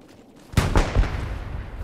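A tank fires in a video game, one heavy booming blast followed by rolling echoing rumbles that trail off in the distance.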